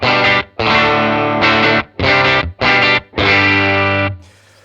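An electric guitar played through a Kemper amp profile gives a heavily distorted tone, struck as six loud chord bursts separated by short silences, close and sustained until a brief fade at the end.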